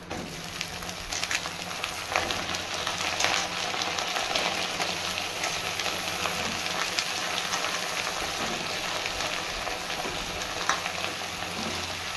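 Potatoes and pointed gourd frying in oil with bay leaves, a constant close sizzle that stays even throughout with light crackling and no voices.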